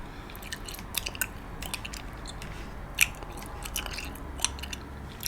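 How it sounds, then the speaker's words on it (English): Gum chewing close to the microphone gives soft, moist clicks and squishes in an irregular rhythm, faint against a quiet steady hiss, with no talking. "I'm going to be doing some gum chewing, as you can tell."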